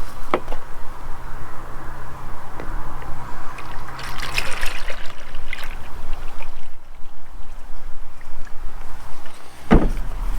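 Liquid chemical for a boomless crop sprayer trickles and splashes into a measuring container being filled to a quart, a steady close pouring sound with a few louder knocks.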